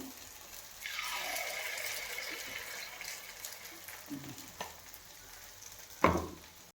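Leftover idli batter hits a hot, long-unused pan with a burst of loud sizzling that slowly fades, then a sharp metallic clatter near the end.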